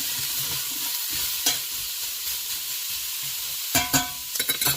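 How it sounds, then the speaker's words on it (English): A spoon stirs ground beef soup ingredients, including chopped medium onion, in a pot, giving a steady soft sizzle with scraping strokes and a few sharper clinks near the end, no talking. "Just go ahead and stir this up."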